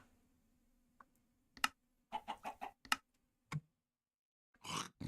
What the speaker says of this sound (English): It was a chicken jockey chicken, so it will need another one before we can breed chickens from it.